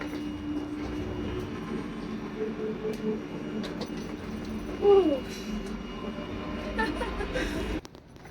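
A passenger train ride in Poland, with a low steady rumble of the carriage and a brief squeal partway through, heard from inside and fairly quiet, without speech.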